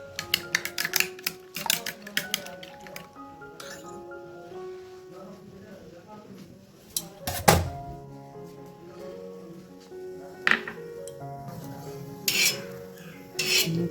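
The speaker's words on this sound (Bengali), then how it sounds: "আমি আগে একটুখানি অমলেট করে নিই" Omelette cooking in a home kitchen pan, with clattering utensil clicks and scraping against the pan in irregular bursts, a few sharp knocks standing out, close by and moderately loud.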